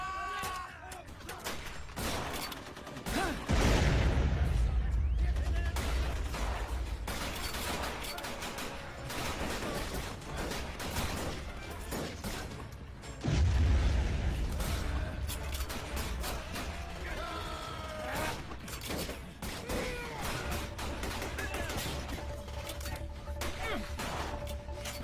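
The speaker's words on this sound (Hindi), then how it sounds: "गोला फेंक इन पे" Artillery shells fired and exploding in an action war film: two heavy booming blasts stand out amid continuous loud gunfire, crashes and battle noise.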